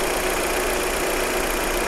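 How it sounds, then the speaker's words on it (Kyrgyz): A 2016 Kia Rio with a 1.6-litre engine idles with a steady, loud, close hum that never changes, and no voices are heard. "Так, мотор өтө ровно иштеп турат экен."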